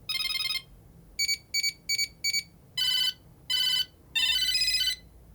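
A series of electronic ringtone jingles from a Moto Tag Bluetooth tracker, starting with a buzz, then quick repeated beeps and longer warbling tones, clear and close.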